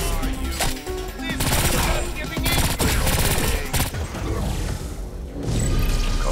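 Dense bursts of rapid automatic gunfire and mechanical clatter from shooting in the video game Agents of Mayhem, loud and sustained in waves over a busy game soundscape.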